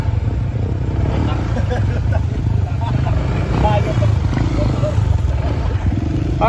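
A motorcycle engine runs steadily and loudly throughout during a group ride up a mountain in Dilasag, with people talking over the engine noise.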